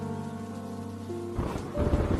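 Steady sustained tones give way to a heavy thunderclap and rumbling rain in a night storm over a village, with the low crash building in the final second.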